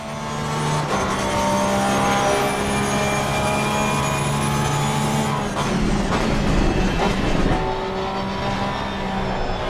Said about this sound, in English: The engine sound is completely different